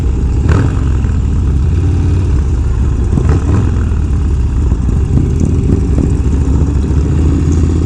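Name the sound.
motorcycle with big high-performance engine revving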